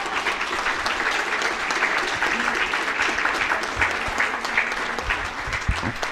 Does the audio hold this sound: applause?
yes